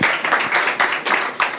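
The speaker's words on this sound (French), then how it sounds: "On peut les applaudir quand même." Audience applause at a pitch event, a short, close burst of clapping with pulsing swells of hands striking in rough unison.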